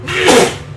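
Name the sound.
sneeze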